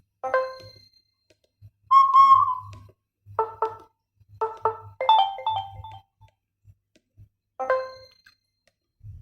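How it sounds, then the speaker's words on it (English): Punkt MP02 phone playing a series of ringtone and notification sounds: short chiming melodic bursts and a sustained tone, separated by silences, close and clear with no talk. "I love the sounds that this phone has."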